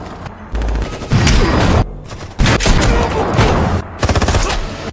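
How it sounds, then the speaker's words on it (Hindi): Gunfire from the action movie Plane: bursts of rapid automatic shots and single cracks come in loud volleys, separated by brief pauses, with no voices. "फिर ब्रोडी गोलियों के बीच से होता हुआ अंदर आकर बैठ जाता है"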